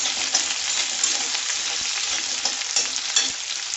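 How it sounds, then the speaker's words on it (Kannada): Shallots (sambar onions) fry steadily in a pan for fish curry, a continuous bright sizzle with occasional stirring scrapes and small pops, close and fairly loud throughout with no voices. "ಸಾಂಬಾರು ಈರುಳ್ಳಿ ಹಾಕ್ಬಿಟ್ಟು ಫ್ರೈ ಮಾಡೋಣ"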